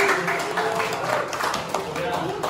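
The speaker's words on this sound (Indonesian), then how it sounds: "Oke, tepuk tangan buat kita." A university class applauds together, a dense rattle of many hands clapping at moderate volume with a voice talking over it.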